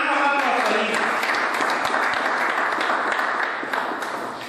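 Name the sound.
audience applause for a youth speaker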